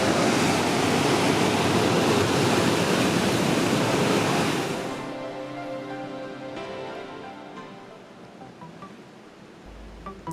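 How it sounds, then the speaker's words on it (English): Ocean surf off Tenerife crashes in a loud, broad roar that holds for several seconds, then recedes into a softer fizzing wash as the wave drains away. "Look at that wave, dude."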